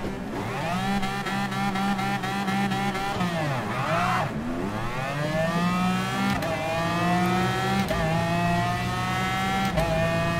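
Race cars, including a McLaren and a Porsche, launch off the line in Gran Turismo Sport, their engines climbing steadily in pitch with brief dips at gear changes, loud and continuous throughout.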